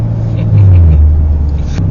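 A Corvette C7 Stingray's engine rumbles loud and close in a tunnel, a deep low drone that swells and rises in pitch as the car accelerates from a start in first gear.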